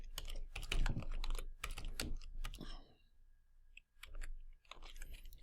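Close, rapid typing on a computer keyboard, key clicks clattering in quick irregular bursts for about three seconds, then a short pause and a few more scattered keystrokes, with no talking.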